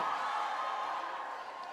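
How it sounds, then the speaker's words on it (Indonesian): Applause and cheering from a university crowd at a political road show for Aldi Taher, a steady roar of cheers and clapping at even loudness throughout. "Tepuk tangan sekali lagi untuk Aldi Taher."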